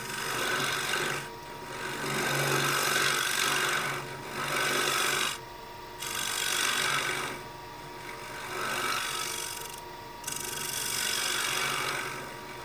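A scraper rasps against a wooden bowl spinning on a lathe, in several repeated passes of rough, scratchy scraping separated by short pauses.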